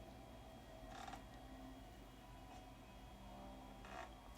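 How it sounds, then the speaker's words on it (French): Footsteps cross a creaking wooden floor, giving three faint, separate creaks spaced a second or so apart over a low, quiet hum. "On entend les bruits de pas sur un plancher qui grince."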